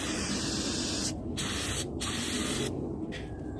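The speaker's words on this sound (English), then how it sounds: "A little bit of brake clean." Brake cleaner sprays in a steady loud hiss onto a superflex bushing, with short pauses breaking the continuous jet.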